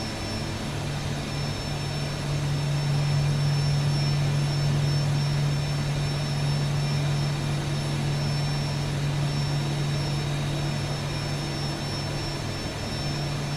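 Boeing 737 jet engines idle during a taxi in the X-Plane 12 flight simulator, giving a steady, even roar with a low hum that holds without pause for the whole stretch.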